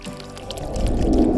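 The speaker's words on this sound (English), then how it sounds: "I then just poured it right in the middle of the silicone mold" Resin pours into the middle of a silicone mold with a soft, close, gently swelling liquid gurgle and slosh, growing slightly louder as the stream continues.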